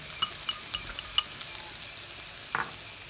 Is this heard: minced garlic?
yes